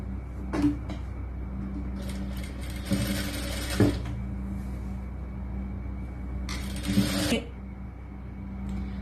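A sewing machine runs in short bursts while stitching the sleeve of a lined churidar top, its motor whirring steadily with brief louder stitching runs and clicks between pauses.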